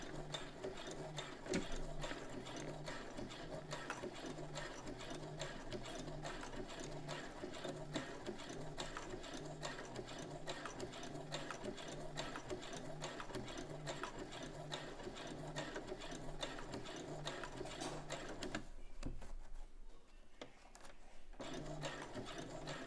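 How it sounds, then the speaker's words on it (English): Sewing machine stitching the pinned collar of a dress, running steadily with a fast even mechanical rhythm for about eighteen seconds, then briefly pausing before resuming, close and alone with no talk. "Go ahead and put my presser foot down and stitch right where it says to stitch at."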